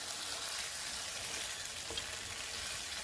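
Spicy baby potatoes fry gently over low heat, giving a steady, even, hissing sizzle with faint crackles throughout and no speech.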